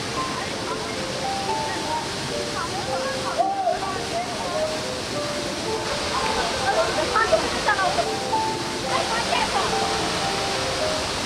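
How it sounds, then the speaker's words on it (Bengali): Devkundu waterfall in Odisha pours in a steady, loud broadband rush that runs unbroken throughout, with faint voices or tonal sounds drifting over the water noise. "সিঁড়ি দিয়ে ওঠার আগে দেখলাম যে সাইডে ঝর্ণাটা দেখা যাচ্ছে।"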